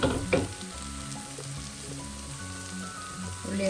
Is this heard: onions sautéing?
yes